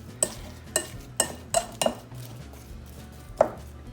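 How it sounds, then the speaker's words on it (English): A spoon stirring thick apple fritter batter in a bowl, a series of six distinct knocks and scrapes against the bowl, close and fairly loud, spaced irregularly with quiet gaps; no talking. "Just stir it until there's no visible dry mix."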